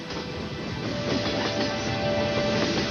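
A steady rumbling roar of a train running along the tracks, continuous and fairly loud, with a faint high whine over the rolling noise.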